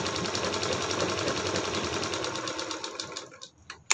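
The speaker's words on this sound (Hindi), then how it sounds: "अब ये बिल्कुल किनारे से सिलाई लगा देते हैं" A sewing machine stitches along the edge of a blouse back neck in a steady, rapid whirring run, then slows and stops near the end with a few clicks.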